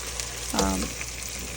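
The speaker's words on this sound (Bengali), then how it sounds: "এখন পেঁয়াজটা ভাজতে আছি যতক্ষণ না পেঁয়াজ একটু বাদামি রং হয়" Onions fry in a pan until brown, giving a steady, soft sizzle with one brief, sharper sputter near the start.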